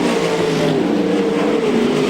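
360 sprintcars racing at Archerfield Speedway, a continuous loud roar of several engines at full throttle, steady and droning, with faint commentary underneath.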